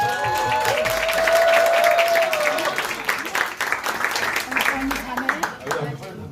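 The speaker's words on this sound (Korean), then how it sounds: "큰 박수로 모시겠습니다" Enthusiastic clapping from a crowd builds and continues at a church worship concert, with a voice talking over it as youth group members are called to the stage.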